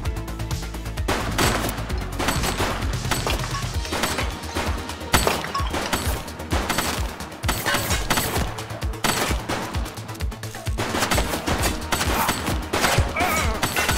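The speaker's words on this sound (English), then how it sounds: "She's shooting!" Sustained gunfire in The Precinct, a police detective video game, with dense overlapping shots and bursts running nearly the whole time over a low music-like bed, loud and close.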